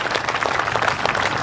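Audience applause at a Hindi-language public talk on the constitution and Babasaheb Ambedkar, a dense steady patter of clapping that stays even and fairly loud through the brief moment.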